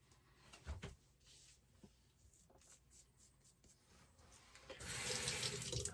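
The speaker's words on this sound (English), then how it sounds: "I'm going to do a quick rinse, guys, just a quick cleanup" A tap runs water into a sink to rinse a single-edge razor. Faint clinks and handling noises come first, then the stream gushes in loudly near the end.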